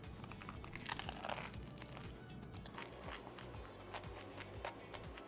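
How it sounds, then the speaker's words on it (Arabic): Crunchy baked bread of a mixed hawawshi stuffed with sausage, pastrami, cheese, tomato and pepper being bitten and chewed close up, giving a steady run of dry crackling crunches with no talk. "قرمشة العيش جامدة قوي"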